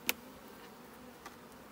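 Honeybees in a queenless hive during re-queening and hive splitting hum in a low, steady buzz close by, with a couple of brief sharp taps over it.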